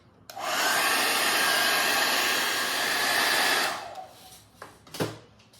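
Hair dryer blowing steadily on a decorative mold, a loud, continuous whoosh lasting over three seconds before cutting off, followed by a few soft handling clunks.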